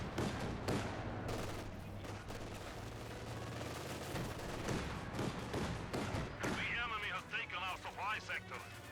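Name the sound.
rifle grenades and gunfire in Company of Heroes 2 video game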